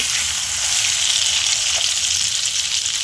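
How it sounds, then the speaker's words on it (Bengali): A triangular tomato and egg paratha fries in oil in a pan, a loud, steady, hissing sizzle that fills the whole moment without pause. "ভেজে নেব।"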